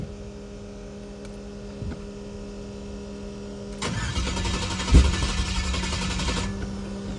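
A carbureted, boosted 1970 Chevrolet El Camino engine cranks and catches over a faint background hum, then settles into a steady idle that holds for the last few seconds.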